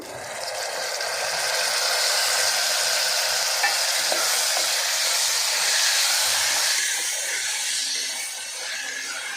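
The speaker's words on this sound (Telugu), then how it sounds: "తరుక్కున్న టమాటా ముక్కలు వేసుకుంటున్నా" Chopped tomato pieces go into onions frying in a pan, setting off a loud, continuous sizzle with a stirring rasp that holds steady, then softens a little near the end.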